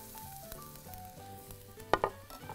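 Onion frying in a spoonful of oil in a pan, a quiet close sizzle with a couple of louder scraping stirs near the end.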